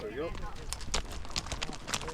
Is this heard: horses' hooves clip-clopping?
yes